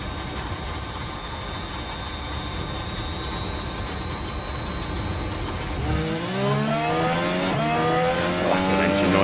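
In the racing game F1 Manager 24, race car engines drone loud and steady and then rise into a sweeping, revving whine as cars pass, with no pauses.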